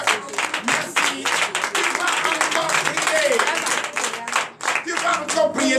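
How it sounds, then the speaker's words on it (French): Loud, continuous applause and clapping from a congregation at a morning church prayer service in Benin, filling the space with dense rhythmic claps and crowd voices throughout. "Donnez la vive acclamation au Seigneur."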